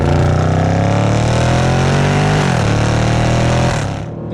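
A 2018 Range Rover Sport SVR with 575 bhp and a modified exhaust, its loud, close engine rising in a sustained rev, dipping briefly, then surging again before fading.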